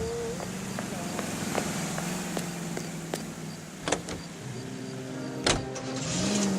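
A car is driven in the video game L.A. Noire, with a continuous engine drone under scattered short clicks and thumps and a rising whine near the end, and no talking.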